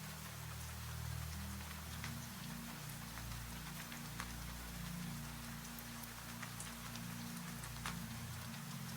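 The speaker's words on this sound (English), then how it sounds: "Somewhere very far away, a single drop of rain falls." Rain falls steadily over a low, continuous ambient drone, with scattered drops pattering softly throughout at an even, gentle level.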